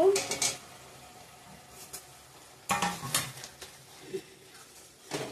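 An onion-tomato spice paste for rui fish kalia sizzles softly in oil while a spatula scrapes and clinks against the pan in a few short bursts, with quiet gaps between.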